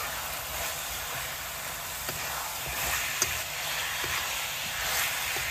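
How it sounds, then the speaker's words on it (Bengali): Two large chicken leg pieces fry with onions in a pan, producing a continuous close, hissing sizzle with occasional soft pops and stirring sounds; no one speaks. "এতিয়া এইখিনি ধুনীয়াকৈ ভাজি ল'ব লাগিব।"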